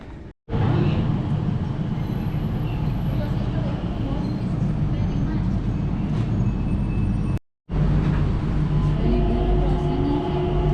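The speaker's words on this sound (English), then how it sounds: "Let's see if I can get on this sky train" Steady rumbling of a moving sky train at the airport near the Jewel, with a low engine hum and rattling, briefly cutting out twice, while a voice speaks over the noise.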